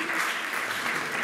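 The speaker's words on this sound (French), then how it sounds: "On peut applaudir Daniela, franchement" A short burst of audience applause for a participant at a talk, many hands clapping together in a brief, full, even patter.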